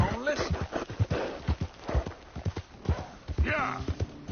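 Hooves clip-clop at a steady walking pace close by, with someone talking over the footsteps.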